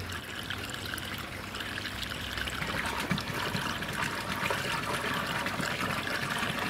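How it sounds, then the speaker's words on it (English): Water trickles and then flows steadily through a bell siphon beneath an aquaponics grow bed as it spills over the standpipe, making a constant close splashing rush with no talk. "a couple of drips and a trickle underneath the grow bed as water starts to go over the top of the standpipe"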